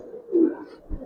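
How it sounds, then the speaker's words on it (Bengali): A brief, low coo comes from a male and female pair of colouring Giribaz pigeons, heard close and alone, followed by a soft thump. "যেমন নর এমন মাদি দুইটা কবুতর দেখেন মাশাআল্লাহ।"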